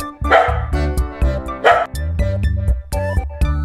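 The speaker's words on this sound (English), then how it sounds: "Dogs running." Dogs running give repeated close barks and yips in an irregular rhythm, with a couple of louder, rougher barks standing out among them.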